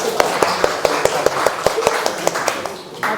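A classroom group claps in applause for group 1, a steady run of sharp, evenly spaced claps close by, about three per second, with some murmuring voices underneath.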